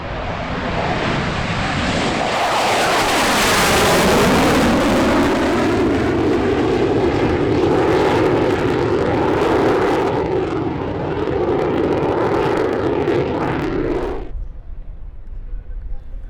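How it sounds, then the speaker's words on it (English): A MiG-29UB jet flies a display pass at the EAA AirVenture Oshkosh airshow, a loud roaring engine rising and sweeping past for about fourteen seconds before abruptly cutting off. "The newest Soviet-era jet in the flying display was Jared Isaacman's MiG-29UB"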